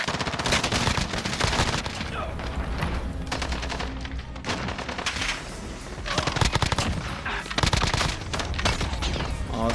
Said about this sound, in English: then you start shooting.